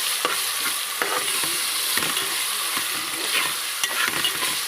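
Ginger garlic paste frying with onions and tomatoes in a pan, a dense steady hiss of sizzling oil with periodic scraping strokes of the spoon, close and without talk.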